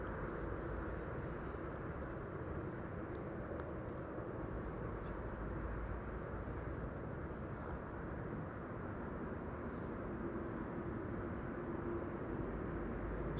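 Atlas Air cargo jet departing Amsterdam Schiphol Airport, a steady, distant broadband engine roar that holds level throughout with no voices.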